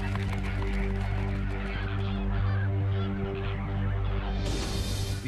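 A large panicked flock of flamingos honking and calling together in a dense, continuous clamor, loud and close.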